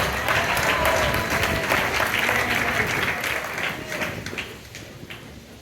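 A church congregation claps steadily and loudly throughout, the applause gradually thinning toward the end, with faint voices mixed in.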